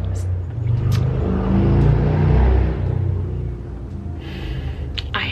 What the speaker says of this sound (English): I hate loud cars.